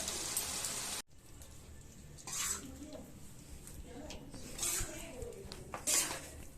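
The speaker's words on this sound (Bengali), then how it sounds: "এবার এটা আমি তুলে দিচ্ছি পাত্রে" Aloo dum is ladled from a cooking pot into a serving dish, with several metallic scrapes and clinks of the spoon against the pot and dish, close by and moderately loud.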